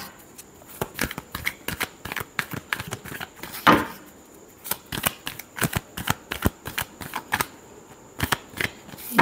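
Tarot cards are shuffled close up in a rapid series of crisp snapping, riffling bursts that repeat over several seconds, with no one speaking.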